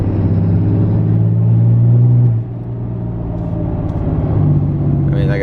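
A new Cummins diesel pickup engine revs under light throttle as a loud, steady low rumble heard from close by, easing down slightly partway through.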